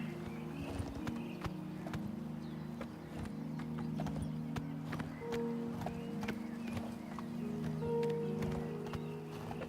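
Hooves clop rapidly in a steady galloping rhythm over a constant low engine-like hum, with an occasional whinny.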